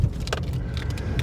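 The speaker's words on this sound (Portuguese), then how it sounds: "Todo o barulho que você ouviu advém do meu tripé que está solto ali no porta-malas." A loose tripod rattles in the trunk of a VW Tera TSI 2026 as the car crosses a speed bump at about 36 km/h, giving scattered light knocks and clatters over a steady low road and engine rumble.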